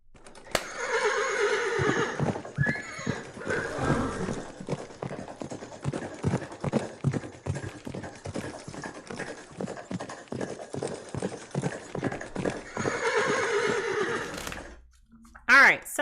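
Close by, a horse whinnies and then steady hooves clip-clop in a quick, even rhythm, with another whinny near the end.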